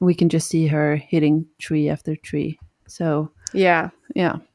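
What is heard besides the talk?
No everyday noise stands out behind the speech.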